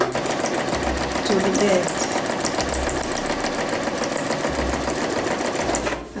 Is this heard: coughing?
no